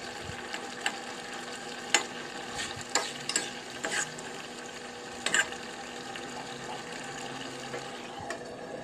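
Beef rendang made with an instant spice paste is stirred in a pan, a spoon scraping and clicking in scattered bursts over a low, steady simmer, fairly close and with no talk.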